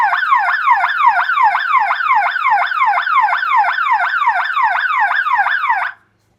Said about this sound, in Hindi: यहाँ पे ये अलार्म जो है वो बज चुका है